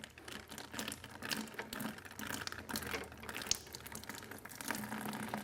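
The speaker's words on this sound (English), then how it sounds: "That water flow is going to drain out of there" Water draining out of an autoclave sterilizer chamber, a close, busy trickling and gurgling with irregular rattly bursts that keeps going throughout.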